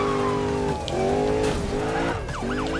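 Tires squeal and skid as a car swings through a U-turn in the Need for Speed 2015 racing game, the loud engine droning steadily under a continuous screech.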